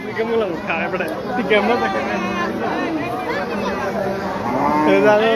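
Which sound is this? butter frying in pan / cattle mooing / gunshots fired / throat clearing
cattle mooing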